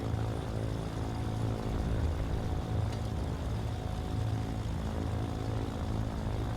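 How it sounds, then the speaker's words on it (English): The right piston engine of a Chancellor 414 twin-prop aircraft starts and settles into a steady droning idle in a flight simulator, a continuous low propeller hum with no talking. "Alright, good start on the right engine."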